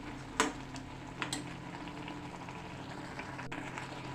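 Green sorrel leaves, green chillies and rock salt cook in oil in a pan, a quiet, steady sizzle with a couple of soft clinks from stirring.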